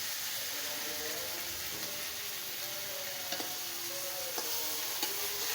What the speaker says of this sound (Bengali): পেঁয়াজের মশলা টমেটো সব দিয়ে দিচ্ছি।